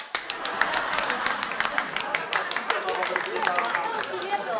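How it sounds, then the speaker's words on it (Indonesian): A studio audience claps at a comedy show, a steady patter of many hands continuing for several seconds, fairly close, with voices faintly mixed in. "Tepuk tangan."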